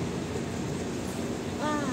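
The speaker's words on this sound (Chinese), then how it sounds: "电车你来啊" A tram rolls in along a Milan street with a steady, loud rumble of wheels on rails and a faint squeal rising near the end, while a voice speaks over it.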